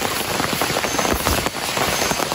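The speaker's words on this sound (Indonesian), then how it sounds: "Sepertinya di luar itu udah mulai hujan kawan-kawan." Rain falling outside a hanging tent at a solo campsite, a steady dense patter on the fabric, loud and close, continuous without any talking.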